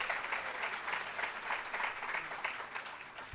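Audience applause at an international day event for universal access to information: steady, moderately loud clapping from a crowd, fairly even throughout and tapering slightly at the end, with no voices over it.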